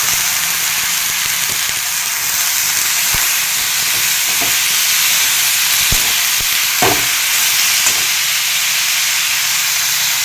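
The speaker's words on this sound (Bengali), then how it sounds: "দিয়ে খুব ভালো করে তাকে ফ্রাই করবো একদম মেটে মেটে করে" Steady loud sizzling hiss of rice frying in a pan, with a few soft scraping stirs and clicks scattered through.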